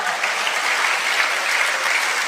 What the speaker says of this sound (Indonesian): Tepuk tangan dong buat saudara